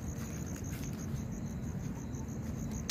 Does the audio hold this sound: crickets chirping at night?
yes